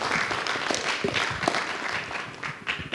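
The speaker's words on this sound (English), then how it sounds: "a round of applause." Crowd applause for exhibitors at a cryptocurrency expo, with a moderately loud, uneven burst of clapping and some voices mixed in as it tapers.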